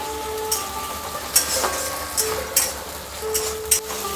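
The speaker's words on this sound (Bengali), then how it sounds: "কাজু বাদাম কিশমিশ সব দিয়ে দেবো দিয়ে আমি ভালো করে নাড়বো" Cashews and raisins fry in a pan of chickpea dal preparation, giving a steady close sizzle broken by several sharp scraping stirs of a spatula at irregular intervals, with no voices.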